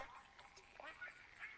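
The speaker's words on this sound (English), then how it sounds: "That could be black duck." A black duck calls in a short burst of quacks against a steady, faint background hiss, the calls fairly distant and modest in level.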